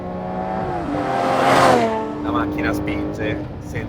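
Lamborghini Murcielago SV, a 670-horsepower V12 supercar, accelerating hard, its engine note rising steadily in pitch to a loud peak before easing off, with someone speaking over it.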